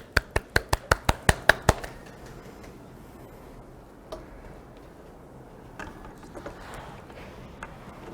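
Brief applause welcoming a chemical engineering professor to a Saturday science lecture: about nine crisp, evenly spaced claps in quick succession, then near silence broken by a few faint taps.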